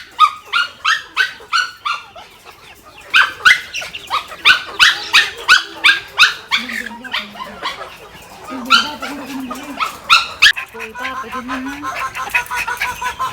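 A lively dog barks in quick repeated yips and woofs, pausing briefly before starting again, with whimpering, panting and the patter of running close by. A voice speaks faintly in places.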